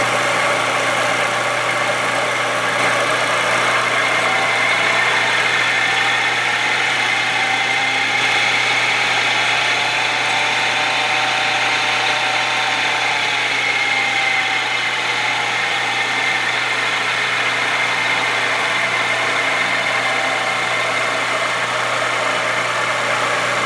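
A repaired lathe runs with its pulley drive turning, giving a steady, continuous mechanical hum and whir with a faint slow cyclic waver, moderately loud and unchanging throughout, with no voices.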